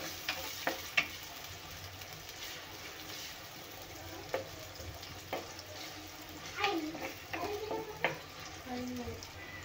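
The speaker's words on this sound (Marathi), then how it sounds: "कांदा छान आपल्याला तेलामध्ये गोल्डन होईपर्यंत भाजून घ्यायचा आहे।" Onion frying in oil in a home kitchen until golden, a steady low sizzle with a few sharp clinks and stirring scrapes scattered throughout, fairly faint.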